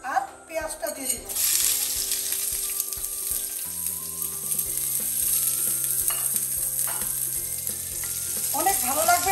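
Garlic and onion fry in hot oil with dried chili, a steady broad sizzle with scraping and clicking stir noises running throughout, with brief talking at the start and end over a soft musical tone.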